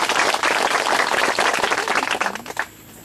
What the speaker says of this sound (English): Clap for God.